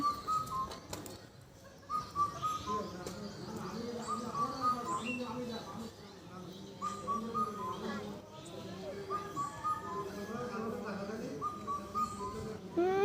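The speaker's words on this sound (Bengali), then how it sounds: "কি সুন্দরভাবে কোকিল ডাকছিল" A koel calls near a mango tree in a rural yard, repeated clear whistled notes rising at intervals over the whole stretch, moderately near, while people talk and move nearby.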